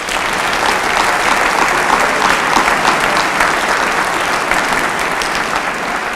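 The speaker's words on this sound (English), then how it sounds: "So I think we owe our seniors one last round of applause." A school crowd at a winter sports awards night gives senior athletes a long, steady round of applause, dense and sustained from start to finish with no talk over it.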